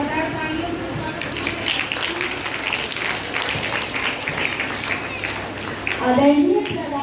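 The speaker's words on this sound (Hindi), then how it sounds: "जोरदार तालियों से स्वागत" Sustained applause from a school audience welcoming a class 7 student, steady and moderately loud throughout, with a voice starting to speak near the end.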